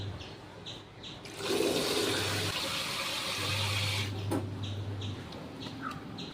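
Water rushes and splashes steadily into a container for several seconds, loud and close, before tapering off.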